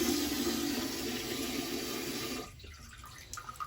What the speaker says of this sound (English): It's leaking right out of the valve itself.